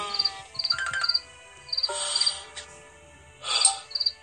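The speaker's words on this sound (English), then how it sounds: "Oh, there's a bird there." A bird in a garden gives repeated short, high chirping calls in quick bursts, fairly close and loud, with brief pauses between groups of notes.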